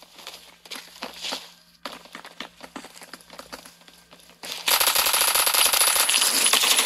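Gunfire in the Roblox shooter Phantom Forces: scattered bursts of shots and clatter give way to a loud, continuous fast automatic stream that holds steady to the end.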